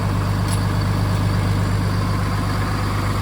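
A Komatsu PC490 excavator's diesel engine idles steadily and loudly up close, a constant low rumble with an even pulsing throb that carries through without a break.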